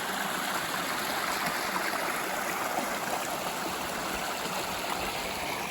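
A clear mountain river rushes over rocks in a steady, dense, unbroken wash of flowing water, loud and close, with no voices.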